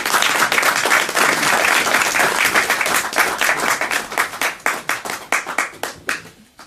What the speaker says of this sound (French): que je demande d'applaudir très fort